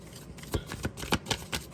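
Tarot cards being shuffled by hand, a run of crisp riffling bursts and soft flicks at a steady uneven rhythm, close and moderately quiet with no talking.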